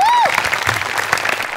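Studio audience applause on a Marathi comedy show, a dense burst of clapping that rises just after a short high tone fades, continuing steadily to the end.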